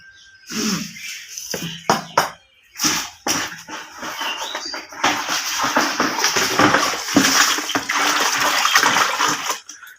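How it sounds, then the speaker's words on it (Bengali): Sweet pithe cakes are rinsed in water: several short splashes and sloshes at first, then a longer stretch of continuous running and swishing water nearby. "পিঠেগুলো কিন্তু ধুয়ে সুন্দর করে তোলা হচ্ছে"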